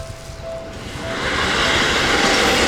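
Non-JR train passing in Japan, a rumble that rises to a loud, steady roar of wheels and cars going by close at hand.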